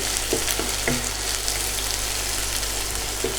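Chopped onions frying in hot oil, a loud, even hiss of sizzling up close with a few soft stirring clicks, nobody speaking.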